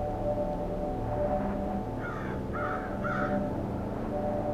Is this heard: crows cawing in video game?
yes